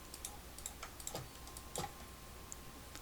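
Scattered keystrokes on a computer keyboard while working in Illustrator, a few soft, faint clicks spaced irregularly in a quiet room with a low steady hum.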